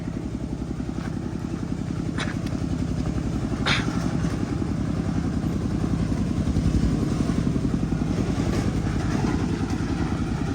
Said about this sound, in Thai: ถ้ารถไถคันนั้นก่อนจะสิขึ้นหรือบ่